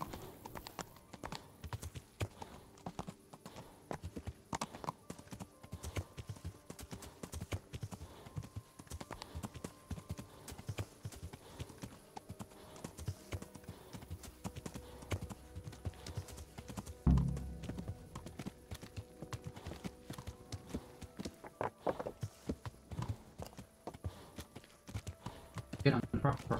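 Horse hooves in the video game Kingdom Come: Deliverance clip-clop steadily and rapidly throughout, a continuous trotting rhythm, with one sharper thud midway and voices talking over it.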